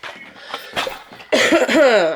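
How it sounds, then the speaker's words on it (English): Several rough, lingering coughs from a person recovering from COVID, close to the mic, a few lighter ones first, then a louder, harsher burst with a raspy vocal edge. "Still have a lingering cough."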